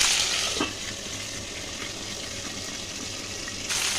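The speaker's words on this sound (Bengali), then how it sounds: "এই দেখো মাছের মাথা ভাজা হচ্ছে" Fish heads fry in hot oil in a covered pan, giving a steady, close sizzle and crackle with a slight louder burst near the start and again at the end.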